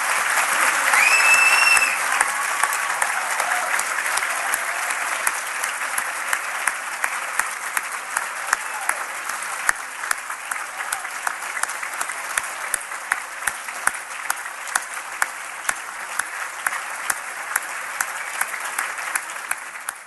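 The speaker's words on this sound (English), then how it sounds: "Please join me in applauding Mr. George Rohr." An audience at an awards ceremony applauds at length, a dense, steady wash of clapping that starts full and slowly thins over twenty seconds, with individual claps growing more distinct toward the end.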